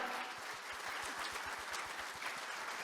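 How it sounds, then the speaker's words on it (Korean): Audience at the Strong Korea Forum 2023 opening ceremony applauding steadily, a dense wash of many hands clapping with individual claps faintly picked out, moderately distant and sustained throughout. "여러분 힘찬 박수로 환송해 주시면 감사하겠습니다"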